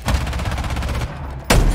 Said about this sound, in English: In a hail of gunfire.